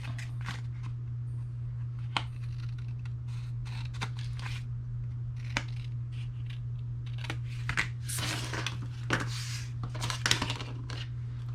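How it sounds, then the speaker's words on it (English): Scissors snip through paper-covered chipboard at an angle for a mitered corner, giving sparse crisp cuts and crunches that grow busier toward the end, close up over a constant low electrical hum, with no talking. "Then I'm just going to take my scissors and cut through at an angle"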